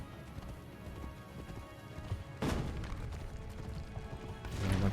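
Horse hooves clip-clop in Assassin's Creed Brotherhood as a ridden horse moves along, a run of soft rhythmic thuds under game ambience, growing louder and busier toward the end.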